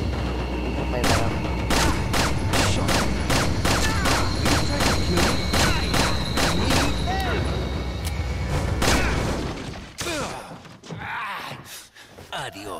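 Rapid gunfire in Resident Evil 4: a long run of evenly spaced, loud shots hammers out for about nine seconds amid game noise and groaning enemies, then cuts off into quieter, scattered thuds and movement, with a voice speaking.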